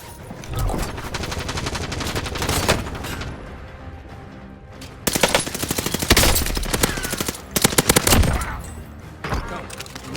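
Heavy gunfire in the Warzone video game, with rapid automatic bursts and loud shots stacking up near and far across the whole stretch, broken by a short lull.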